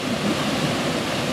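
A waterfall on a river in remote forest gives off a steady, dense roar of rushing water, even and continuous with no other sounds.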